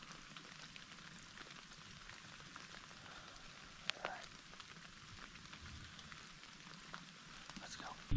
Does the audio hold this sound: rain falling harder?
yes